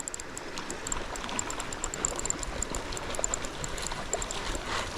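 Fast, shallow, brown-tinged river water rushing and babbling steadily over stones, a constant close wash of turbulent flow with no voices.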